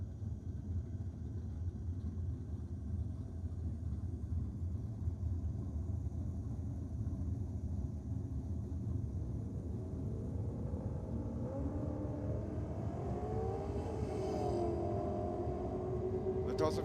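Drag racing at Sydney Dragway's evening session, a Ford utility against an LS2-powered Mitsubishi, heard as a steady distant engine rumble that swells into rising revs near the end, with a commentator's voice running over it.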